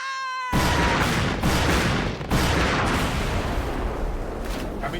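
Heavy cannon fire from the pirate naval battle game Like a Dragon: Pirate Yakuza booms out after a short high tone, with several loud blasts rolling into a dense sustained barrage of explosions and no voices.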